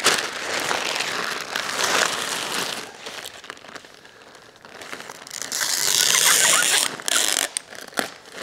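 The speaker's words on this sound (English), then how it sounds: "We're going to use our tape to secure the pads in place." A tape gun pulls tape across paper moving pads wrapped around a flat-screen TV, with a ratcheting screech and crinkling paper up close, including one long stretched pull.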